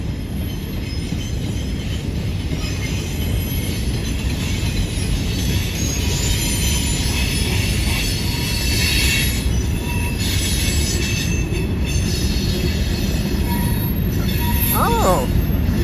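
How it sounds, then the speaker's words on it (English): A CSX M650 freight train rolls steadily past with a long string of boxcars and some flatcars, giving a continuous loud rumble of wheels on rail with occasional squeals. "And it really was a short train for M650 standards, with this train only having 63 cars."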